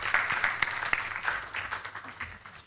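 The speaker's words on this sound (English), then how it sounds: "A round of applause again for the panel." Brief, lively applause from a conference audience thanking a panel at an international ocean governance conference, close crisp claps that begin to thin out toward the end.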